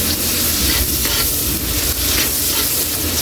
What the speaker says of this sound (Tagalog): okay na yung bawang natin. Ilagay na natin yung sibuyas.